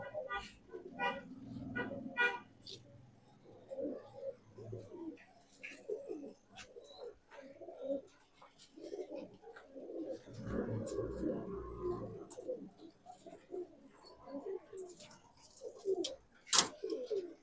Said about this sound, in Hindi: बहुत ही अच्छे हसीन लाजवाब कबूतर हैं सबके सब